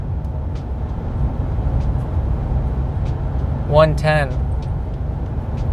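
A Ram 1500 pickup with a 5.7L HEMI V8 tows a load uphill, its engine a steady low drone inside the cab, and someone briefly talks over it.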